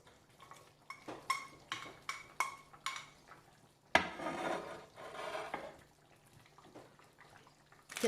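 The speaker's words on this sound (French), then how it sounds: "Maintenant, on met les oignons coupés grossièrement." Coarsely chopped onions going into a pot of chicken Massaman curry with potatoes, a series of clattering knocks and scrapes from a utensil, then a louder rustling tumble as the pieces drop in; no talking.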